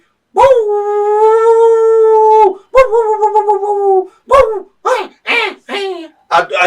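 A human voice imitates a village dog barking and howling at an elephant: a long drawn-out howl, then a wavering yowl followed by several short, loud, close barks.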